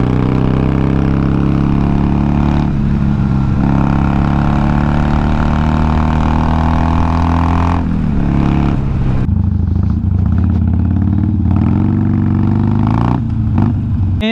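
A motorcycle engine breathing through a dual exhaust gives a loud, steady, deep rumble at close range, with a throttle change near the middle and uneven revs toward the end. No one speaks.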